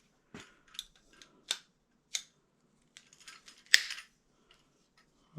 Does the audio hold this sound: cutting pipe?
yes